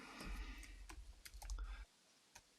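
Typing on a computer keyboard, a quick run of light clicking keystrokes close by over a low room rumble, then a pause with one last tap.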